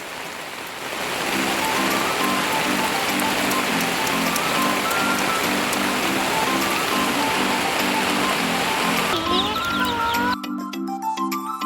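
Steady heavy rain roars throughout at a poultry farm, with a repeated low tonal chirping pattern on top and faint brighter whistle-like tones near the end.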